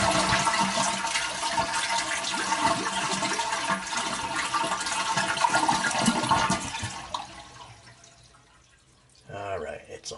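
A toilet tank flushing and draining during a parts repair, a loud steady rush of water for about seven seconds that fades to a trickle, then a short gurgle near the end.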